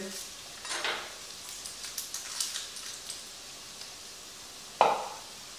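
Lemongrass and garlic sizzle in a pan for beef rendang, a soft steady frying hiss with light stirring scrapes, ending in a sharp clink of a utensil on the pan.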